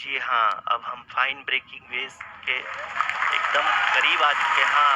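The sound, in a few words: applause at ISRO mission control during Chandrayaan-3 landing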